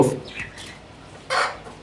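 A chicken on a farm gives a couple of short clucks, fairly close, within a brief stretch of quiet ambience.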